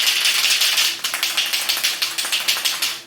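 Spray paint can shaken hard before painting a Crown Vic fender, the mixing ball clattering in a fast, steady rhythm of rattling strokes, close and loud with no voices.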